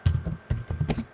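Quick bursts of keystrokes on a computer keyboard, several close taps in two short clusters with a brief pause between, near and fairly quiet, with no talking.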